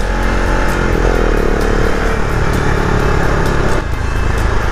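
A Husqvarna Vitpilen 701 motorcycle engine roars loudly and steadily, revving up close with a throaty, sustained drone.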